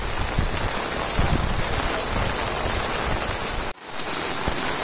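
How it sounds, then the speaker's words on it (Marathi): Heavy rain pours steadily in a hilly area, a dense, loud, continuous hiss of drops beating on surfaces, with a brief sharp dropout near the end before the downpour resumes at full strength. "आज नाही पाऊस थांबणार."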